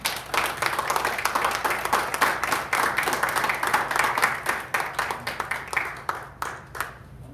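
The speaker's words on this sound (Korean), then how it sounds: "뜨거운 박수로 환영해 주시기를 바랍니다" An audience applauds warmly to welcome a speaker at a rural pastors' summer conference, with dense clapping that thins in the last seconds into a few scattered, separate claps.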